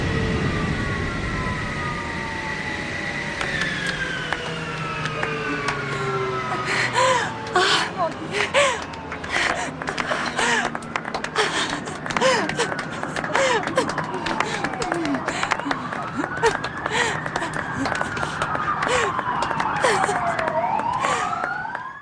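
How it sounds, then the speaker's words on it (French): Fire engine sirens wail after an airliner emergency landing, in rising and falling tones that grow stronger over about twenty seconds, mixed with gasping, people talking and dense clattering noise. "Les pompiers sont en route."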